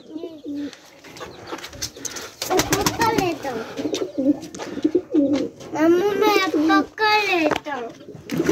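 Pigeons coo while a black pigeon is held by hand. Soft low coos mix with frequent talking by a child and an adult close to the birds.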